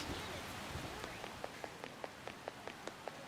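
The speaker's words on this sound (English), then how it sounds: "This rain is intense." Steady rain from the Persona 5 Royal video game, a dense hiss with light regular droplet taps falling throughout, fairly faint and unbroken.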